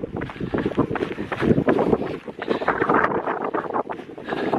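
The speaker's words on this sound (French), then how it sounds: "Il y a un vent, il pleut en plus." Strong wind with rain buffets the microphone in loud, gusty rushes that rise and fall throughout, with no voices, during a trail race in Lofoten, Norway.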